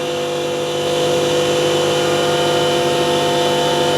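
A separately excited DC generator spins at 3000 RPM, giving a steady, loud machine whine with a constant hum and layered tonal drone. It runs continuously without variation and without talk.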